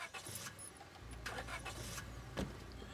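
A small two-seater truck in the Scarlet Hollow video game starts with a brief jangle of keys, then its engine settles into a low, steady rumble as it pulls away into the dark.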